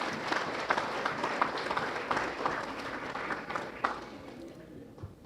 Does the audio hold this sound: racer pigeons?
no